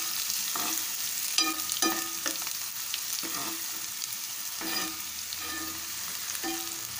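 Onions fry lightly in a pan with a steady, soft sizzle, broken by occasional spoon-stirring scrapes and taps at an uneven rhythm.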